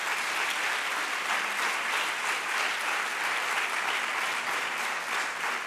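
An audience at an event applauds the creator of a winning image, a dense and steady round of clapping that holds at an even level throughout.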